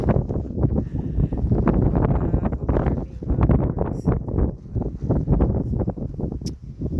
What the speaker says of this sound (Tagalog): ang lakas-lakas pa ng ulan ng hangin